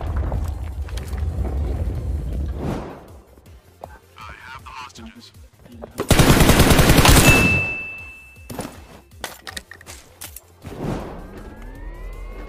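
Rapid automatic gunfire in a multiplayer shooter game, a loud dense burst of shots lasting about two seconds, preceded and followed by players chatting, engine and ambient game sounds, and a few scattered single shots.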